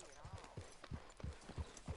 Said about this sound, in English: This is a good horse.